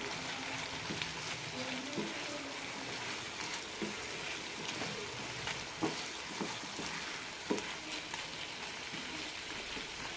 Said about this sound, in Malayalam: സവാള ഈ രീതിയിൽ വഴറ്റിയെടുക്കണം ഇനി നന്നായി മിക്സ് ചെയ്യാം